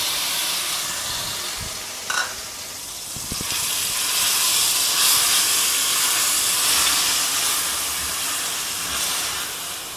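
Grated big onion hitting hot ghee in a pan, a loud continuous hissing sizzle that swells a few seconds in and holds steady, with faint clinks early on.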